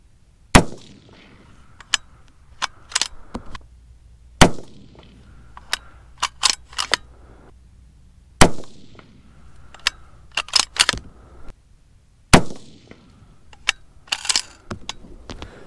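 A .224 Valkyrie rifle is fired at a range, and sharp loud cracks arrive every few seconds, each followed by clattering metallic clinks and rattles nearby, with no talk.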